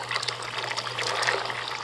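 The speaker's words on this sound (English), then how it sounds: "after adding salt, add hot water. Allow it to fill up to the level of the peanut." Hot water is poured over salted peanuts in a bowl, a close, steady splashing pour lasting under two seconds with no talk.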